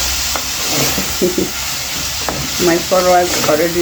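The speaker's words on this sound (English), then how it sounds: "And then I'm going to stir in" Paprika is stirred into food frying in a sufuria, a steady loud sizzle with scraping spoon strokes close by, while someone talks over it.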